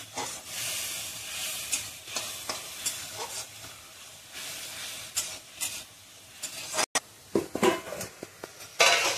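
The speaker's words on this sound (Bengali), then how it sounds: "এবার একটু জল দেবো বাটিটা ধুয়ে, মশলাটা কষাই নেবো ভালো করে।" Spice paste frying in oil after a splash of water is added, with steady hissing sizzle and repeated scraping stirs, loud and close, no one speaking.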